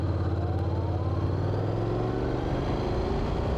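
Honda NC750X motorcycle engine running steadily as the bike rides off, a loud, continuous mid-range drone with rising pitch, alone without talk.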